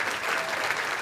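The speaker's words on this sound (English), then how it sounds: "Let's give them one more round of applause." A short burst of audience applause at a school district event, dense and steady, moderately loud with no voices on top.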